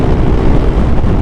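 Headwind roars across the microphone while riding a Honda Click 125i scooter, a loud constant low buffeting rumble with no voices.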